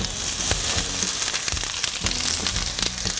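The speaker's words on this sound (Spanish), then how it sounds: "Para caramelizar usaremos aceite de cocina. Agregamos la cebolla" Onion sizzling in hot cooking oil in a pan on the stove, caramelizing with a steady, loud crackling fry throughout and no talking.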